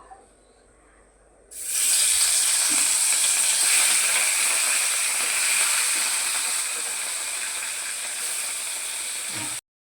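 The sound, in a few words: fish with salt and turmeric frying in hot oil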